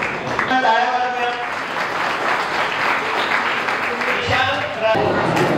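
An audience at a Shri Sant Sawta Mali memorial ceremony applauds in a sustained round of clapping, with a voice speaking over it now and then.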